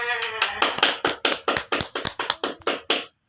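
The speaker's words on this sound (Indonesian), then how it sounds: "Kita beri aplaus untuk kita semua" Classroom pupils clap together at a teacher's request, a quick run of about a dozen distinct, evenly spaced claps from a small group, close and fairly loud, stopping abruptly.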